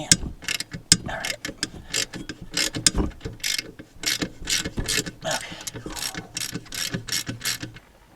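Rapid ratchet clicks come in bursts as a ratchet works the alternator belt tensioner on a Toyota Hiace, close and alone with brief pauses between strokes.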